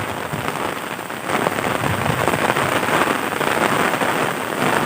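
Heavy rain pours down steadily on surfaces in Phibun Mangsahan, Ubon Ratchathani, Thailand, a dense, loud, continuous hiss of drops that swells slightly after the first second, with no voices.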